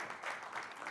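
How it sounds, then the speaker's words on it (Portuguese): Audience applause at an entrepreneurship and innovation award ceremony, a steady wash of many hands clapping for the whole moment, fairly faint and even, with no one speaking over it. "Uma salva de palmas para a Spectrum!"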